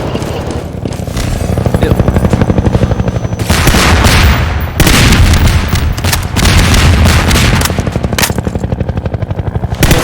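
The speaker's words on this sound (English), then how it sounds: "I also got him to drop bombs too" Bombs drop and explode in Garry's Mod: dense, loud bursts of booming blasts and rapid crackling detonations roll on continuously, with a short break partway through.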